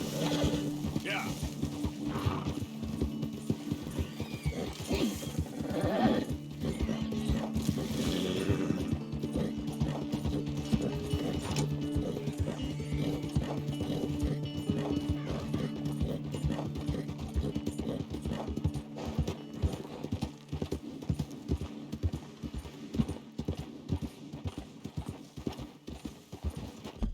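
Horse hooves clip-clop in a steady rhythm in the game Red Dead Redemption 2, close and continuous, with creaking tack and a brief whinny, while a voice talks over it.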